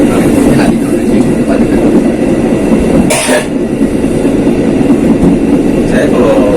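Loud, continuous rumble and rattle of a moving passenger train between Surabaya and Yogyakarta, heard from the gangway between carriages, with a sharp hiss midway and faint voices underneath.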